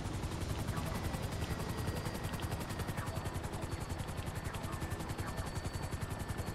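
Helicopter in the video game GTA Online, its rotor chopping in a fast, steady, loud beat throughout, very close, with no one talking over it.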